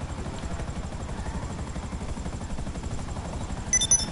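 A helicopter in GTA Online keeps up a steady rotor thrum with rapid low chopping pulses throughout, joined by brief bright game sounds at the end.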